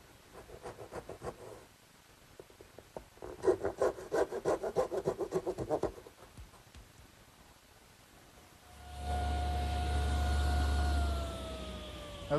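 A hand saw makes tenon cuts in wood, with two runs of rapid rhythmic rasping strokes separated by a short pause, followed by a distant wailing siren outside.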